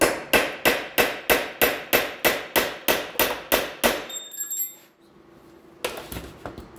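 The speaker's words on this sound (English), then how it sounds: "And then a punch, a hammer." About a dozen sharp, evenly spaced metallic hammer blows on a punch against a rear main seal of a Cadillac Eldorado Northstar engine ring out close and loud, then stop, leaving faint clinks and a final knock.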